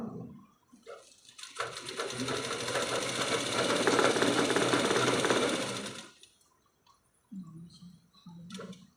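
A sewing machine stitches piping between the lining and the main cloth, running steadily and rapidly for about four seconds with a dense mechanical chatter. Quiet handling noises come before and after the run.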